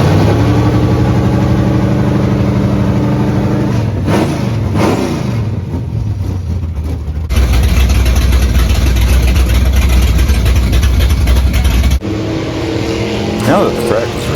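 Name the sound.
dirt track race cars warming up engines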